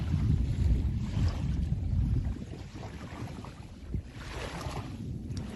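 Gentle lake water lapping at a beach shoreline, mixed with outdoor wind rumble, steady and fairly faint throughout.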